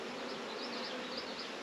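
A mass of bees buzzes as one continuous, faint, even drone, resting on a newspaper with no voices over it.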